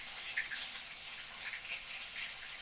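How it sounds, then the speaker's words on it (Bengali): A katla fish head frying in mustard oil, a faint, even sizzle and hiss with a few brief spits and crackles. "মাথাটা আমি দেখো তেলের মধ্যে দিয়ে দিলাম"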